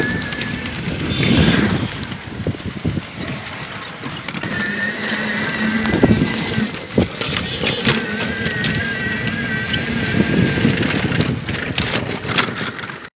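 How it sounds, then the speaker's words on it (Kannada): Riding a three-wheeled battery rickshaw through Guwahati brings a continuous street din: a low motor hum, rattles and bumps, and passing traffic with occasional tonal horns. "ನಾನು 3 ಚಕ್ರದ ಬ್ಯಾಟರಿ ಸೈಕಲ್ನಲ್ಲಿ ಪ್ರಯಾಣಿಸುತ್ತಿದ್ದೇನೆ"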